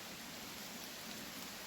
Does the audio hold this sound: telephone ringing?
no